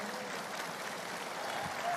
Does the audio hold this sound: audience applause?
yes